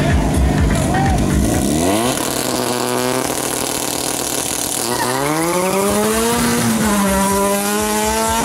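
Race cars at a Fuel Tech CMC drag racing event in Chapecó, SC, in 2014 roar loudly throughout, their engines revving in rising, sweeping pitches while an announcer talks over the noise.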